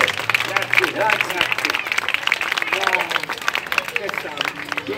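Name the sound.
audience applause for the tenor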